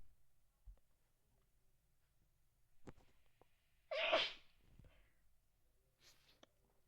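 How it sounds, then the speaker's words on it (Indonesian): A single loud sneeze from a person playing an Everest mountain-climbing roleplay game in Roblox, a sharp close burst alone, with a few faint clicks around it. "Ntar dulu, aku mau bersin."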